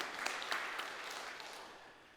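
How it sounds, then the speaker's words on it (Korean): A church congregation claps during a Sunday sermon, a steady wash of many hands with a few sharper peaks early on, fairly faint and fading slightly toward the end. "잘 그 믿음이 잘 지키신 거 박수입니다."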